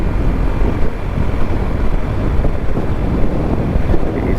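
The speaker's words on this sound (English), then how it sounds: "It is very windy up here." Strong, steady wind roars and buffets the microphone high on a bridge over the Columbia River, a dense continuous low rumble with gusty surges and no speech.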